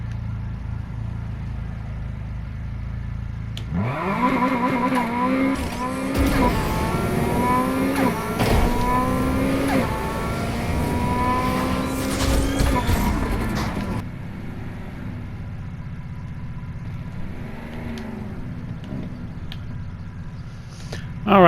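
A Nissan 180SX drag car in the racing game NFS Heat launches and revs hard through rising gear pulls with shifts, loud engine whine holding for several seconds before easing off to a lower drone.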